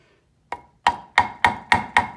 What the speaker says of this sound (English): So I need my little hammer.